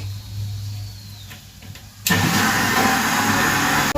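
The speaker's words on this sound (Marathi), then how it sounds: "ताकासारखं करून टाकायचं आपण मिक्सरमध्ये" A kitchen mixer grinder switches on to churn yogurt into thin buttermilk, a loud steady whirring roar that starts abruptly halfway through and runs on without pause, after a quieter stretch of low hum and faint handling noises.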